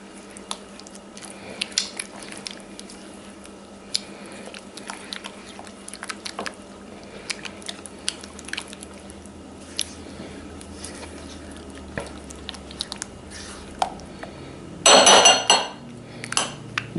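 A spatula scrapes and clinks against a bowl while mixing a thick spinach dip, soft intermittent taps and squelches at close range, with a louder burst of clattering near the end.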